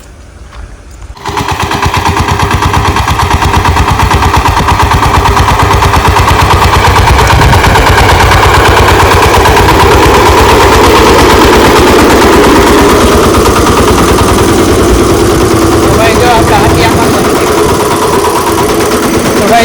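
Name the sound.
horned tractor engine running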